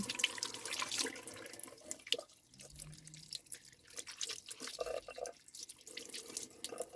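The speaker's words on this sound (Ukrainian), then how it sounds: "Я її вимиваю під струєю води." A wet cleaning wipe rinsed under a running kitchen tap, water splashing and trickling steadily with short interruptions as the cloth is squeezed and moved through the stream.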